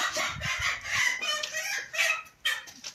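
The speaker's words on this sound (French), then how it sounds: "Ça, c'est le coq qui monte une poule." Chickens cluck and squawk noisily up close while a rooster mounts a hen, a dense flurry of overlapping calls with a short break near the end.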